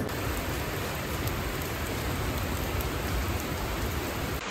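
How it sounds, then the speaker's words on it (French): Heavy rain in Costa Rica pours down steadily in a dense, continuous hiss with no other sounds. "La pluie tombe fort là."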